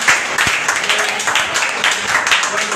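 A church congregation applauds and acclaims Jesus during a worship service, with loud sustained clapping filling the room and voices mingled in.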